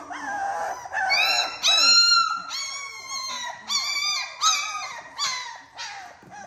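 A pup barks and howls in a run of high, whining yelps with strong harmonics, loud and close, each cry rising then falling in quick succession with no talking.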